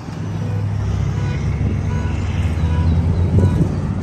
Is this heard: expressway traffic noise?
yes